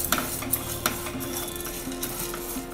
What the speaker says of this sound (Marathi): आता ह्याला छान खमंग आपण भाजून घेणार आहोत.